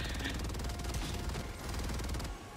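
Machine gun fire in Helldivers 2, a rapid, unbroken stream of loud shots that runs for over two seconds before stopping.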